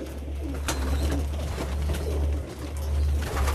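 Pigeons coo in low, repeated rolling calls, close and continuous, with a few faint clicks and rustles in the background.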